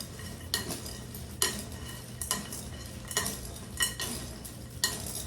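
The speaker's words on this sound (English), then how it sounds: "Mix this all up." A spoon stirs a dry Halloween snack mix in a bowl, giving a steady rustling scrape with sharper clinks about once a second, close and fairly quiet, with no talking.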